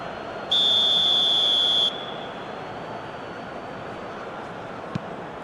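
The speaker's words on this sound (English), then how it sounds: "Whistle's gone, that's a foul." A referee's whistle in eFootball PES 2021 during a simulated Brazil vs Serbia match sounds one loud, steady, shrill blast of over a second for a foul, over a constant crowd hum.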